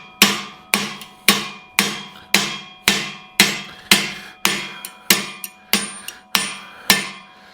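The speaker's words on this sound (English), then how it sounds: "this is where a anvil will help" A hammer strikes a metal steering part for a 1941 Mercury on an anvil, about a dozen sharp ringing blows in a steady, even rhythm, close and loud.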